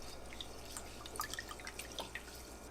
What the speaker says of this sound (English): Before I cook rice, I wash it 3 times in water and drain the water.